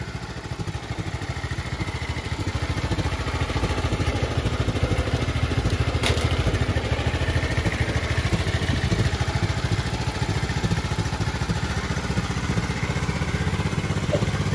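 An engine runs steadily throughout with a rough, pulsing low rumble, close and constant with no other sounds.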